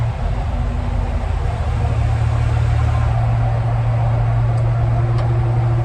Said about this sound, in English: This is what GM would have called a big block motor back in the day.